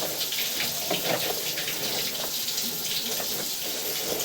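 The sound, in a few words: water flowing through an open drain pipe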